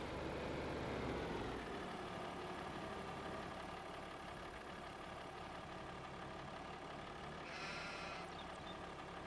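A short wheelbase tractor engine idles and runs steadily in a yard, a constant low rumble at moderate distance with no clear changes, a brief higher noise near the end, no talking.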